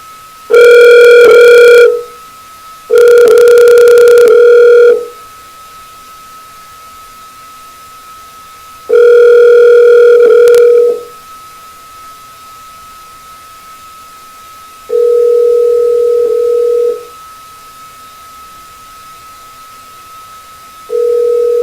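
A telephone call rings out unanswered, with repeated loud, evenly spaced ring tones of about two seconds each separated by pauses, over a faint steady line hum.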